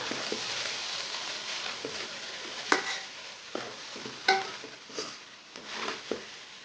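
Chicken biryani being stirred in a pot, a steady low sizzle with scattered scraping and clinking knocks from the spoon against the pot, close and moderately loud, no talking.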